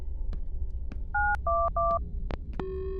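Telephone keypad dialing tones: a few short, distinct beeps in an irregular sequence, followed by a steady held tone, over faint background noise in a quiet room.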